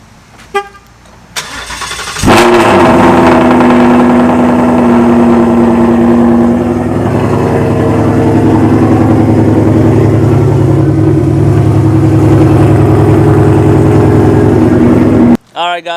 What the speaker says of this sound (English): let me give you guys a cold start so you guys can hear this thing